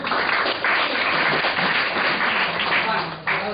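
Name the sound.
audience applause for a colleague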